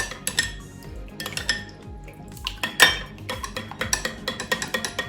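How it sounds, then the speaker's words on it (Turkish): A spoon stirs and presses lumps of tarhana in a pot for a bone-broth baby soup with vermicelli, giving repeated close metallic scrapes and clinks against the pot with a louder knock midway, no voices. "Şöyle güzelce karıştırıyorum bastırarak."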